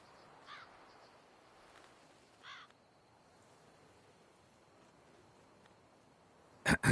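Crows cawing in The Witcher 3: Blood and Wine, a few short harsh caws spaced apart over a quiet ambient bed, followed by a sharp loud burst at the end.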